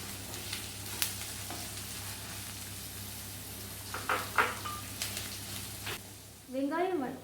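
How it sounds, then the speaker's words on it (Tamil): Onions sautéing in hot oil for a chicken gravy, a soft steady sizzle with occasional stirring knocks and a brief scrape near the end. "எண்ணெய் கொதிச்ச பிறகு ஆனியன்ஸ் ஆட் பண்ணிக்கோங்க"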